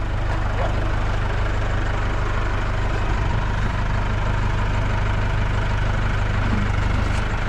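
A tractor engine runs steadily at close range on a mountain homestead, a loud, continuous low idle-like drone with no break across the span and no talk over it.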